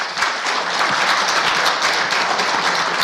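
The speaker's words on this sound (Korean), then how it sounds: "큰 박수 부탁드립니다." Sustained, dense audience applause fills a Korean patent-law conference session on injunctions, a steady even roar of many hands clapping close by with no voices.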